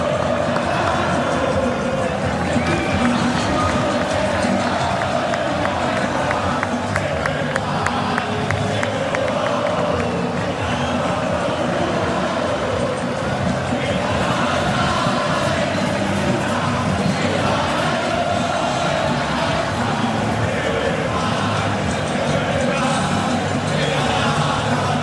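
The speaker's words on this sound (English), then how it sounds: "Have a little watch and a listen to this crowd responding to that Argentina team on the pitch." Dense, continuous roar of a football stadium crowd cheering and chanting for Argentina during a match against Switzerland, loud and sustained from start to finish with no individual voices standing out.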